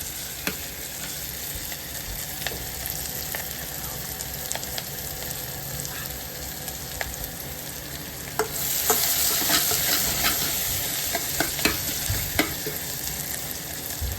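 Onions fry in a pan for veg dalcha, giving a steady close sizzle with scraping stirs throughout that grow louder and hissier partway through, and no talking.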